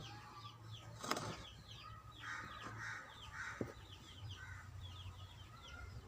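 Chickens gathering to peck at feed, with repeated clucks and squawks, a loud flurry of flapping wings near the start and a sharp call later, over a steady low background hum.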